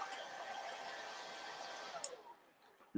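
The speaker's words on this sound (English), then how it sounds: "you could use just a handy dandy blow dryer" A hair dryer blows with a steady whooshing hum, then switches off near the end as a brief noise follows.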